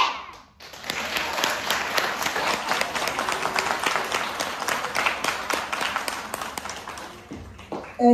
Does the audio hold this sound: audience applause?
yes